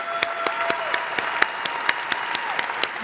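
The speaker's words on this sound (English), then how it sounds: "He'd probably much rather prefer a last round of applause." An audience at a payment-security keynote breaks into steady applause, a dense wash of clapping with sharper individual claps standing out, sustained through the whole stretch without talk.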